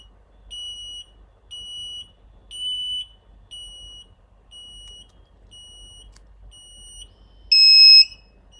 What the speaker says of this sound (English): it makes buzzing noise on and off